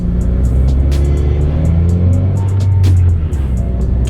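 A modded, dyno-tuned 2016 Subaru WRX accelerates hard, its engine roaring loud and close with rising revs that hold steady before a brief dip near the end.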